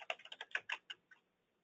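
Quick, light keystrokes on a computer keyboard as a password is entered, about a dozen soft clicks in a fast, uneven burst that trails off, quiet and close with no voices.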